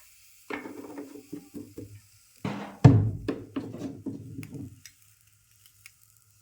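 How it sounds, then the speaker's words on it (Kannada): Oil spread over a hot dosa pan, with short bursts of sizzling and scraping strokes, one sharper loud hiss in the middle, then fading to near silence, close up with no talking. "ಈಗ ಇದಕ್ಕೆ ಬರೀ ಎಣ್ಣೆ ಹಚ್ಕೊತೀನಿ ರೀ"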